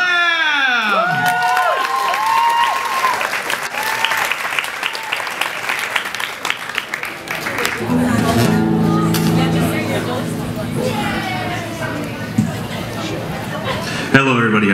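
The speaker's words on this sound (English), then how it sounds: "round of applause for our final guest of the evening" Loud applause and cheering from a comedy club audience welcoming a musical comedian on stage at a live cabaret show, sustained dense clapping mixed with whoops, shouts and crowd chatter throughout, ending in a sharp clap.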